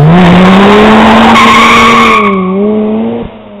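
A Mazda RX-8's rotary engine revs high and smooth nearby, the pitch climbing and then falling away as it drives past.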